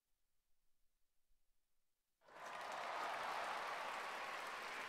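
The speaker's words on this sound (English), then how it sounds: "I hear familiar cheers from the direction of the clock tower." A large crowd cheers near a clock tower in the video game Chrono Ark, bursting in abruptly after near silence and then holding as a loud, continuous roar to the end.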